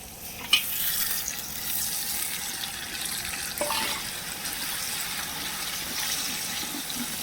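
Wet masala sizzles and fries in a pan of crab curry while it is stirred, a steady hiss with occasional scraping clanks, moderately quiet and with no speech.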